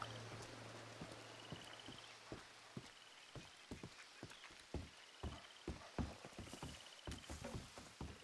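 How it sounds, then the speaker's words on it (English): Rain falls in The Frontier RP video game near a swamp, a steady patter of drops with scattered sharper taps throughout, no voices. "it's coming to rain."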